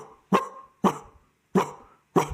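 Four sharp, deep wolf alarm barks ring out one at a time with short pauses between them, loud and close.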